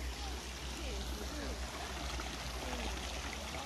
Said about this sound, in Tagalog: Ayun guys yung waterfalls oh.